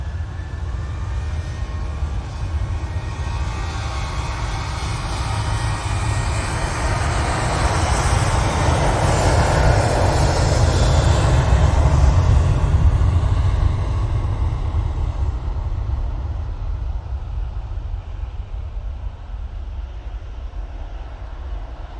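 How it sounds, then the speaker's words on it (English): A Ryanair airliner takes off at Manchester Airport: a loud jet rumble swells to a peak midway through, then slowly fades as it departs, with no voices. "we've got this Ryanair going off."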